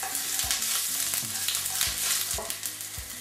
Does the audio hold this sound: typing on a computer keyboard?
no